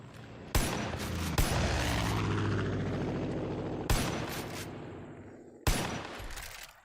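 Gunfire in Far Cry 5 fired from the air during a strafing run, a sustained loud burst over a helicopter-like drone, punctuated by several sharp shot transients, no talk.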